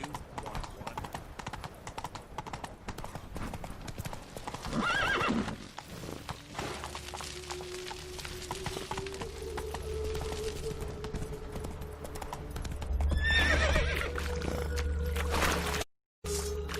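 Roach, a horse in the Witcher 3 video game, gallops with steady clip-clop hoofbeats and lets out neighs, one around the middle and a louder whinny near the end, with game ambience underneath.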